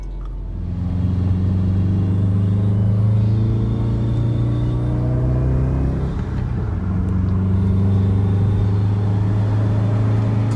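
A Subaru accelerates onto the freeway after a misfire and boost-control fault code was cleared, its engine a steady, loud rumble heard from inside the cabin, rising through the gears with a shift partway through, and no talking.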